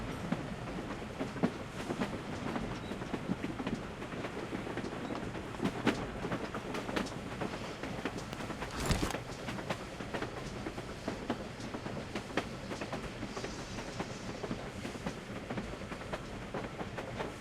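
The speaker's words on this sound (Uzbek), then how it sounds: "Butun yarim yo'l bo'ylab yuribdi bu poyezdlar." A train rumbles along steadily with rhythmic clickety-clack of wheels on rails, a continuous moderate roar and occasional brief louder bursts.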